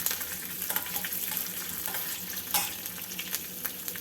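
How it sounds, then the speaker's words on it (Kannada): Green chillies sautéing in a hot pan while making millet curd rice, a steady close sizzle and crackle with occasional stirring scrapes and small pops throughout. "ಈಗ ಇದಕ್ಕೆ ಒಂದು 3 ಹಸಿಮೆಣಸಿನ್ಕಾಯಿ ಸೇರಿಸ್ತಾ ಇದ್ದೀನಿ. ಇದು ಸ್ವಲ್ಪ ಬಾಡಿಸ್ಕೊಳ್ಳೋಣ 1 ನಿಮಿಷ."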